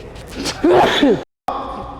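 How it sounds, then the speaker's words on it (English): A single sharp sneeze bursts out close by, followed by a brief silence. "I'm about to sneeze for the Eddie."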